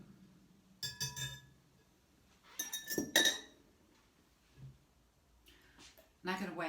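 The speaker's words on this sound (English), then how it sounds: "it kind of incorporates lots of air into the liquid" Sharp clinks of a whisk striking a glass container while sourdough starter liquid is stirred, in several irregular bursts separated by quiet gaps, close and crisp.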